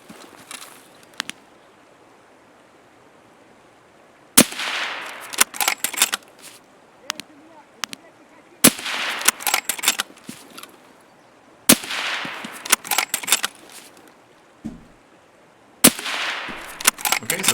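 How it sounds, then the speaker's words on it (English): Escape from Tarkov gunfire: sharp, loud single shots and short bursts crack out at irregular intervals, separated by quiet stretches of footsteps, gear rattles and low ambient noise. "So I decide to turn around and get some distance and try to get some leg shots and then some headshots."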